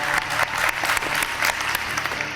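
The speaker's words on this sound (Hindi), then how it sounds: "तो इनकी वालदा के लिए जो असली हीरो हैं तालियां होती हैं।" A television game show studio audience breaks into a short burst of dense, steady applause, close and loud, with no talk over it.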